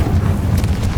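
Confringo explosive spell blast in Hogwarts Legacy, a loud, sustained low rumbling boom with a brief crackling burst partway through, no talk.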